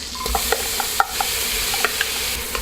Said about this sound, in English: cook the onion and the garlic about 1 minute until the onions are translucent